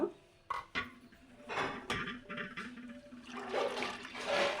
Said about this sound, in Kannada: ಈಗ ಈ ಮಜ್ಜಿಗೆ ಹಾಕ್ಕೊಳ್ಳೋಣ.